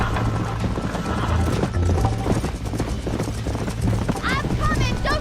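A horse gallops and neighs in the video game Red Dead Redemption, with quick clip-clop hoofbeats close by, a whinny near the end, and someone talking over it.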